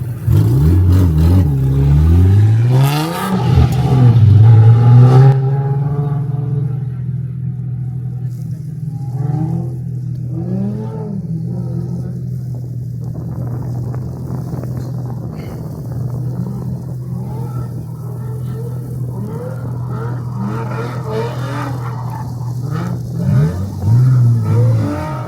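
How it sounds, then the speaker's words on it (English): A drift car on a practice lap, carrying a passenger, roars loudly and steadily, with sharp revs in the opening seconds settling into a continuous close engine drone. "Lap of the day, and they've allowed Caleb to sit in with me for the last lap."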